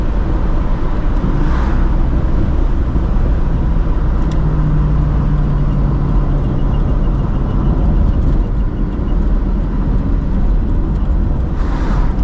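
Steady, loud engine drone and road rumble from inside a moving Ford Mustang with no sound insulation, continuous throughout with no talking.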